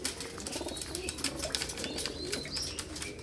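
Pigeons kept in boxes at a Punjabi pigeon-breeding loft, with soft cooing and scattered chirps and wing flutters forming a steady, busy background close by, no voices.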